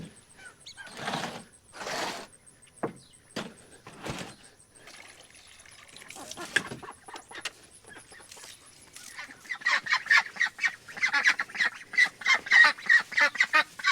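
Ducks kept in a farm pool, sharing the yard with turkeys, give a run of quacks and clucking calls that starts sparse and builds into a dense, busy chorus toward the end, fairly close.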